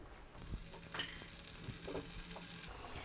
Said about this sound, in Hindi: अब हम इनको डीप फ्राई करेंगे। ऑयल को हमने गरम कर लिया है।